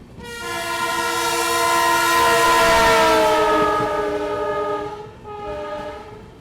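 Passenger train horn at Palanpur railway station in the evening, one long loud tonal blast that swells and fades, followed by a brief second honk, with faint rail rumble beneath.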